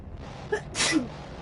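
A single sharp sneeze, brief and moderately close, with a small intake of breath just before it, over a faint low background hum.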